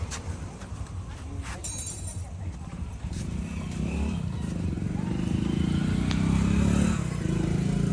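A freshly serviced and repaired motorcycle idles close by at a roadside garage in Arabhavi, its engine putting out a steady low rumble that grows slightly louder partway through, with scattered clatter and background noise.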